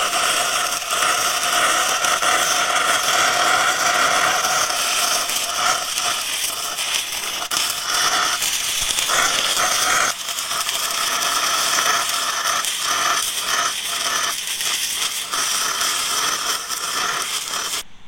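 A stick welding rod burns in a continuous crackling, sizzling hiss that sputters and pops irregularly, close and steady, with short breaks in the arc.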